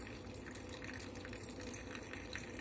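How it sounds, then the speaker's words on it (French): About a cup of beef broth is poured slowly into a tourtière meat pie, giving a continuous soft, close trickle of liquid with no talking. "je m'en viens de rajouter environ une tasse de bouillon de bœuf qu'on verse tranquillement"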